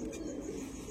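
A rescued pigeon gives a low, soft coo, close by and fairly faint, over a moment of dull background noise.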